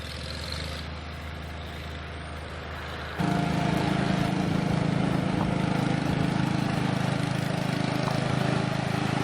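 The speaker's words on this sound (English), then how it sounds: "as expected, they're cutting the grass in there" Volunteers start a lawn mower and cut grass, its engine kicking in partway through and then droning steadily and loudly nearby.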